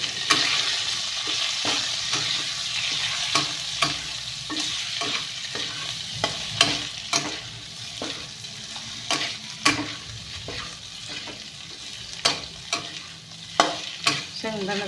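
Bitter gourd being stir-fried with garlic in oil, a steady sizzle broken by repeated sharp scrapes and clatters of the stirring spoon against the pan, close and fairly loud with no talking.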